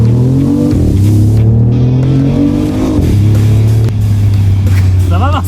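Synthetic engine tone of a BMW i8 sports car played through its cabin speakers, a loud steady hum rising and falling in pitch as if revving, with people talking inside the car.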